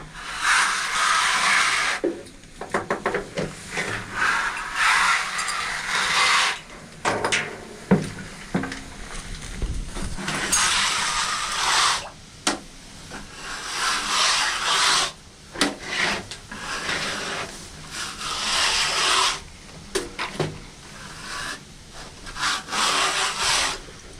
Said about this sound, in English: Now Mike scrapes the side of the tank all the way down.